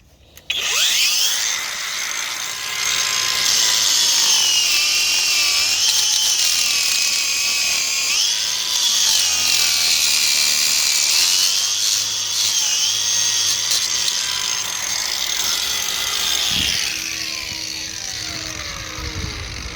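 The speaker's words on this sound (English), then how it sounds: "The chiseling." Power tool chiseling at a blocked drain, a loud, close, continuous grinding rattle lasting almost the whole stretch with no talk over it.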